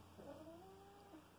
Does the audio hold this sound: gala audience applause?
no